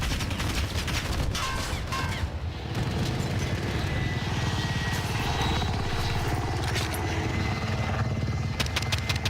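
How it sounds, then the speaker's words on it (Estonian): Helicopter in the Call of Duty Warzone video game, a loud rhythmic rotor thudding that persists throughout, with bursts of gunfire crackling over it. "Mingi tellitud kopter või?"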